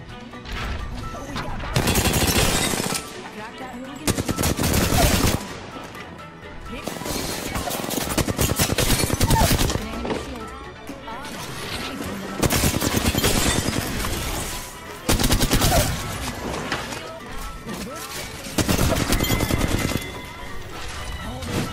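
Vault energy weapon fire in Apex Legends, loud bursts of rapid shots arriving in roughly regular clusters across the stretch, separated by quieter gaps of ambient game noise.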